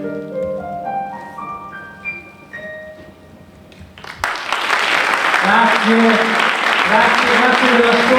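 Applause swells at an awards evening, the Premio Targa48. Sustained clapping from an audience fills the second half, entering after a sung or melodic passage and continuing steadily while a voice speaks over it.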